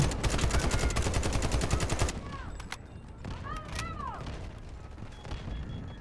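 Rapid automatic gunfire from the shooter game Delta Force Hawk Ops rattles in loud, fast bursts, then cuts off, leaving quieter game effects and faint electronic chirps.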